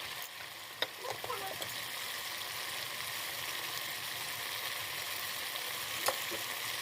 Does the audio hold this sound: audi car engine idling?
no